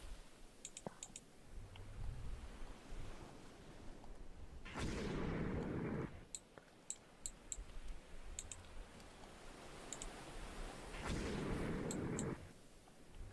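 Warships in Total War: Rome II fire their guns at a dead ship: two long, rumbling bursts of cannon fire, fairly distant and muffled, with sharp mouse clicks scattered throughout and no talking.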